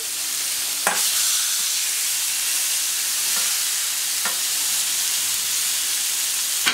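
Duck breast marinated with porcini sizzling on a plancha, a dense continuous hiss with a few sharp pops and spits, close and fairly loud.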